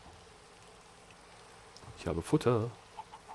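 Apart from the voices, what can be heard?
chickens clucking in the video game Minecraft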